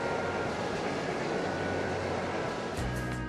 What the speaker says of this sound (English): Taking the train.